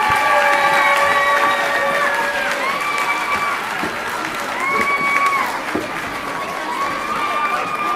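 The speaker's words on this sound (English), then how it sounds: "How about another round of applause for all of our musicians tonight?" An audience applauds the young musicians after an elementary school winter concert, steady clapping mixed with children's excited shouts and voices across a busy room.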